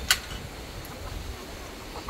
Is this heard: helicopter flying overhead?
no